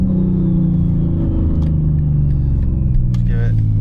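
Big-turbo BMW G80 M3 engine, a loud, close rumbling rev that rises and falls, with a voice talking faintly over it.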